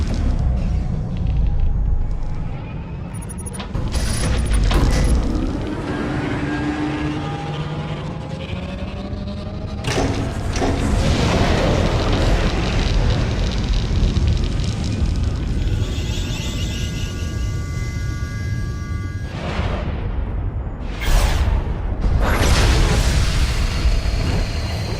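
A starship in a space battle fires the Silencer superweapon at an enemy fleet, unleashing a long, continuous roar of deep booms and rumbling explosions with repeated sharp blasts and whooshes throughout.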